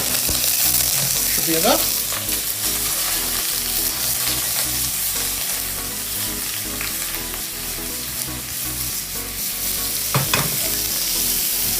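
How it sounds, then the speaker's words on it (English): Shaved pork sautéing in a hot pan for an udon salad, a loud continuous sizzle with occasional stirring scrapes and clatters, and a brief remark from a nearby voice. "again, we're using this shaved pork. Throw it in there, saute it off."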